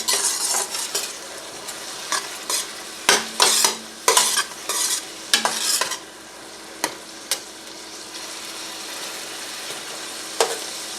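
Translucent onions cooking in a pot for a cheesy corn chowder, a low sizzle under repeated close utensil stirs and scrapes that come in irregular bursts, with no voices.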